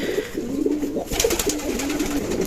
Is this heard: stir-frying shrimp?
no